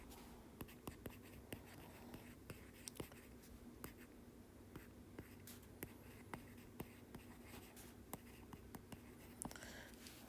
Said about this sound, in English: draw a line through equal sign